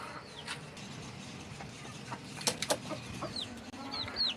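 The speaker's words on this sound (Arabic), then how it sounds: "هاي الكتاكيت" Chickens and chicks clucking around a backyard coop, with soft irregular clucks and occasional brief chirps over a steady low farmyard background, fairly close.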